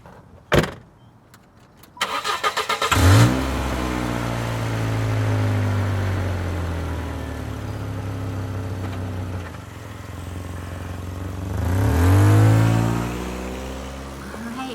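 A LEGO Friends toy car sets off for a drive, with a loud imitated engine rev and steady motor hum lasting several seconds, swelling again near the end; a brief knock and click come first.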